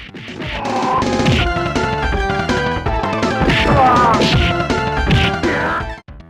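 Energetic 16-bit Super Nintendo game level music plays loud and busy, with punchy drums, synth bass and bright lead melodies driving along without pause.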